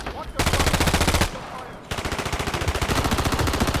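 Rapid bursts of Renetti pistol fire in Call of Duty Warzone on Rebirth Island, loud and close, in two sustained volleys with a brief gap between them.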